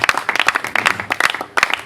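A church congregation claps in irregular, fairly close bursts that keep stopping and starting over a short stretch.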